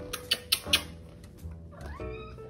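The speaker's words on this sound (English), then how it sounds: "We got all three cats here waiting for supper." Several hungry house cats waiting for supper, giving a few short, close meows in quick succession, followed by a drawn-out rising cry, with no talk.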